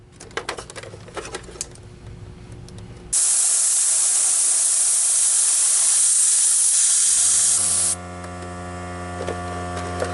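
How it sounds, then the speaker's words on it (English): Steady, loud broadband hiss of air rushing through the lid hose of a Miele S344 Platinum canister vacuum, starting abruptly after some handling noise, holding for several seconds, then dropping to a quieter hum. "make sure that air is passing through this hose"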